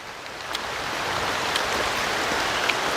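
Steady rain hisses all around, a dense even wash of sound with a few closer drops pattering now and then.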